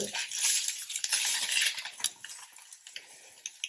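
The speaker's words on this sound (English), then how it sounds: "So I'm going to just quickly flip them over" Fried eggs are flipped over in a pan, with a bright scrape and clatter of a utensil against the pan over a soft sizzle, then a few lighter taps as the noise settles.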